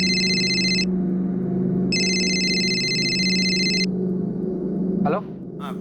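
An electronic phone ringtone plays in two sustained bursts separated by a short pause, loud and close over a steady low hum.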